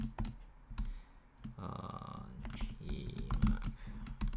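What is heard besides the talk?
typing code on a computer keyboard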